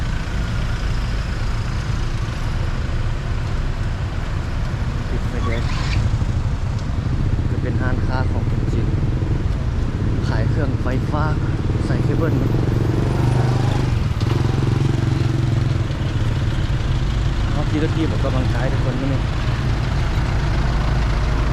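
Evening rush-hour traffic jam on a Vientiane street, with motorcycles and cars idling and revving nearby in a constant low engine rumble while someone talks over it throughout.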